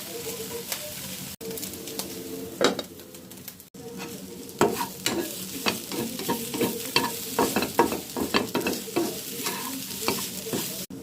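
Food frying in a pan while a spoon stirs it, with repeated scraping strokes over a steady sizzle, close and fairly loud; a pigeon coos faintly in the background and no one speaks.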